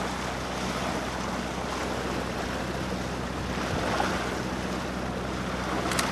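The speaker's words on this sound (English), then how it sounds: "It's noticeably more choppy now, with a stiff breeze blowing up the Ribble" Choppy water slapping and a stiff breeze buffeting on the River Ribble, a constant broadband wash with wind rumble and occasional splashes, close and steady throughout without talk.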